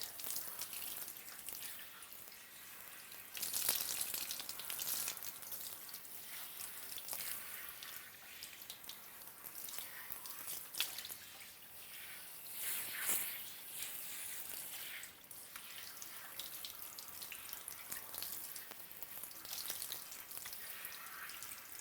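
Running water from a weak-pressure tap rinses shampoo out of a hair system, a steady hiss with splashing surges and drips, close and unbroken without talk.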